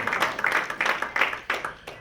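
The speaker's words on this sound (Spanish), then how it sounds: "Un aplauso al equipo técnico." A church congregation applauds the technical team in a few uneven bursts of clapping, fairly soft and patchy, with brief gaps between swells.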